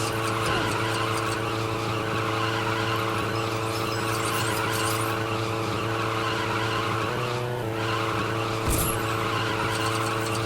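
Vehicle engine and skidding tires from the Lego Batman 3: Beyond Gotham video game, a loud continuous motor drone with tire squeals and a brief dip as wheelies are performed.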